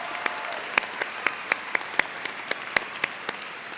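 Graduating honors scholars from the College of Agricultural Sciences are applauded at a commencement ceremony. Steady, moderately distant clapping comes from a crowd, with sharper individual claps popping out in a loose rhythm.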